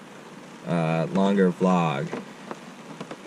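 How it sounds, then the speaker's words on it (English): Steady rain falls outside, a constant soft patter heard under a person talking up close. "hopefully you can hear me over the rain. That's over the rain sound right now."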